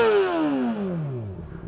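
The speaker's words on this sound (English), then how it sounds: "Let's hear that Yoshimura RS5 sound, original decibel killer" A Honda CBR600RR motorcycle fitted with a Yoshimura RS5 exhaust and its decibel killer installed gives one loud, close engine rev that falls smoothly in pitch over about a second and a half.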